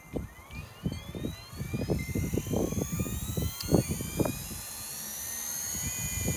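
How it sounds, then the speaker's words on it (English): Helicopter turbine spooling up with its rotor blades removed, a rising whine whose tones climb steadily while rhythmic low thumps pulse beneath, close and fairly loud throughout. "We're gonna spool up the helicopter without the blades."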